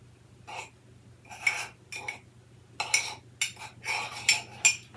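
A pot stirred with a utensil as ingredients melt for a sourdough pizza, giving about eight short scraping, clinking bursts at an uneven rhythm over a low steady hum, fairly close.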